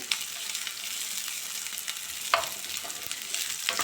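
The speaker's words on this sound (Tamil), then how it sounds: "இப்போது வெங்காயம் ஓரளவுக்கு நல்லா வதங்கியாச்சு" Onions sautéing in a pan for a palak gravy, with a soft steady sizzle and a few spatula taps and scrapes, no talk.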